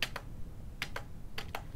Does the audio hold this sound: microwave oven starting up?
no